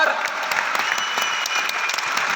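An indoor audience at a motivational event in Patna's Bapu Sabhagar applauds loudly, a dense, steady wash of clapping that stays close and full throughout with no break.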